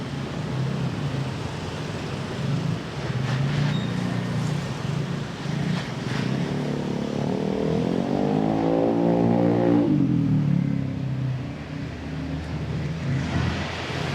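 Busy traffic passes along the main street in Sanur, Bali, with a steady roar, and one motor swells louder, then fades as it goes by.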